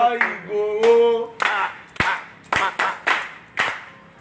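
An audience at a community meeting claps in several sharp bursts after a spoken voice, the claps close and separate rather than a sustained roar.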